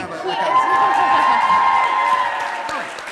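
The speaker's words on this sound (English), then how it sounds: "I don't know why you're applauding that." A studio audience applauds and cheers loudly, with a sustained burst of clapping and whoops swelling and then tapering off, voices shouting over the clapping.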